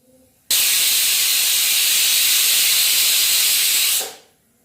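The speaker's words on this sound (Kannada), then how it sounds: "ಉಗಿ ಬಂದ ನಂತರ ಕುಕ್ಕರ್ನ ಲಿಡ್ಡನ್ನು ಕ್ಲೋಸ್ ಮಾಡಿಕೊಂಡು ಈಗ 2 ಸೀಟಿಯನ್ನು ಕೂಗಿಸ್ಕೊಳ್ಳುತ್ತೇನೆ" A pressure cooker cooking methi pulao lets off a loud, steady jet of hissing steam that starts abruptly, holds for about three and a half seconds, then tapers away.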